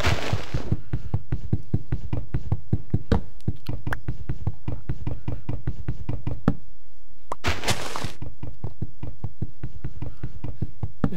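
Rapid, even knocking thuds from punching down a huge tree in Minecraft, repeating steadily for about eleven seconds with a brief pause and a louder crunching burst near the end.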